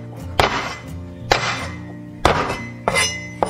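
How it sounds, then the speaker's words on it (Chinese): Garlic cloves are smashed with the flat of a cleaver on a cutting board, giving four loud, separate thwacks with short ringing decays between them. "这个时候我们拍点大蒜"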